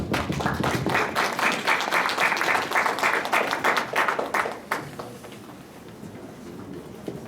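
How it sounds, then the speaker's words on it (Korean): Dense applause from an audience welcoming a lecturer at a church-hosted talk, steady and full for several seconds before thinning into scattered claps. "강의하실 텐데 큰 박수로 보시겠습니다."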